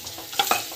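A spoon briefly stirs and scrapes through a sizzling dal tempering seasoned with rock salt and chili powder. There are two sharp scrapes over a soft frying hiss, close and short.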